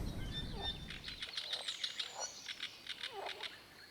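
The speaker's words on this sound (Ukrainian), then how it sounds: "Слухаємо спів пташок" Small birds chirp and sing near a pond while fishing for crucian carp, a series of quick high tweets and short trills, moderately close and fairly quiet over a soft outdoor background.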